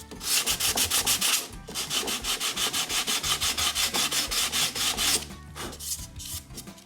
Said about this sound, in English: Okay, I spent some time sanding here on the outside.